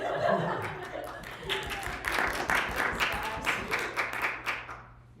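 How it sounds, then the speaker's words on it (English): Scattered audience clapping with a few chuckles, moderate and somewhat thin, following a talk on privacy in the U.S. Census, with faint voices underneath. "We can clap for it."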